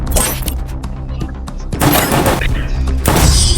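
Bursts of gunfire in a Counter-Strike match, with an AWM sniper rifle among the shots, crack loudly in close, repeated blasts over a dense, busy game mix.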